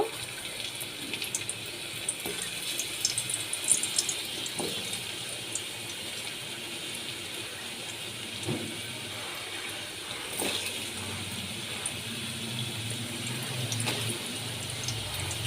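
Potatoes fry in hot oil seasoned with black cumin and dried red chillies for jhinge aloo posto, giving a soft, steady hiss and sizzle with faint crackles throughout.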